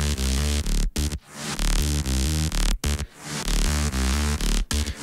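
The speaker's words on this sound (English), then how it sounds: "Remember, the bass sound by itself was like this." A synth bass made in Serum for a progressive house track, a loud, dense buzzing tone pulsing in chopped rhythmic bursts with brief sharp gaps between phrases, heard alone.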